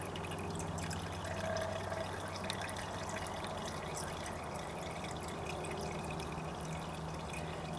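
Engine oil pouring steadily out of the filter hole of a Suzuki Boulevard C50T motorcycle during an oil change, a continuous close liquid trickle and splash with no talking.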